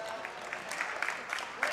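A crowd at a 2016 high school boys basketball game between the Onsted Wildcats and Blissfield Royals applauds and murmurs, with steady clapping and scattered cheers heard from a distance under a commentator's voice.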